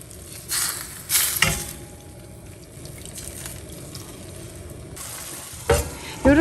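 Tofu and seasoning sauce cooking in a pan for mapo tofu, giving a steady low sizzle and simmer with a few louder clatters and stirring bursts, close up and without talk.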